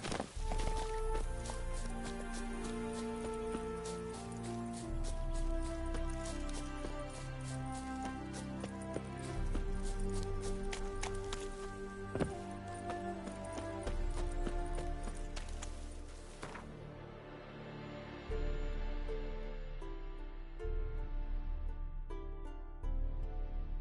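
A horse trots in The Witcher 3 with steady rhythmic clip-clop hoofbeats, fairly faint, over game music that runs throughout.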